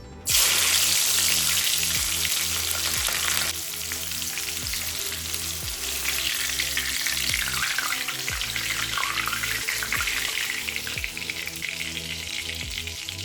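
Green chillies fry in a pan of hot oil used for deep-frying batata vada, producing a loud, steady, close-up sizzle with fine bubbling crackle that continues unbroken throughout.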